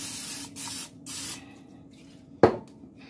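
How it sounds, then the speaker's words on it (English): Two short hissing bursts from a Pam cooking spray can onto a pan, close by, followed by a brief sharp knock. "I'm going to spray with a little Pam"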